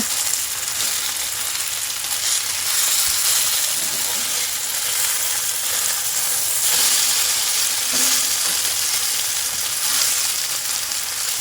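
Battered luffa gourd fries in hot oil with a loud, continuous crackling sizzle close by, steady throughout with small bursts of spatter.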